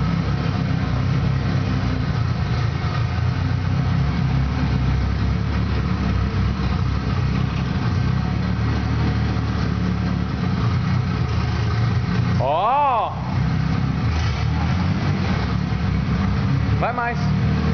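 A turbocharged Chevette's engine runs steadily on its first drive, a dense low rumble throughout with a couple of brief rising whine sweeps near the end, and people talking over it.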